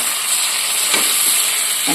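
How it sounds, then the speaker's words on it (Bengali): Fried brinjal pieces are stirred and sizzle in a pan with mutton curry, producing a loud, continuous close-up hiss of frying with faint scrapes from the stirring. "এবার এই যে ভেজে রাখা বেগুনগুলো দিয়ে একটু কষিয়ে নেব, নিয়ে জল দেব না"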